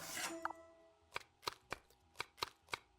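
Knife chopping food in the Cooking Mama video game, a series of sharp, evenly spaced chopping taps, about seven strikes in quick succession, close and clear after a brief burst of game sound.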